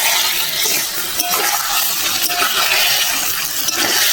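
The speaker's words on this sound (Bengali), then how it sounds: "এইভাবে নাড়তে থাকবো" Chicken curry with potatoes being stirred in a pot with no water added, a steady close scraping and sizzling that runs throughout with small clinks of the spoon against the pot.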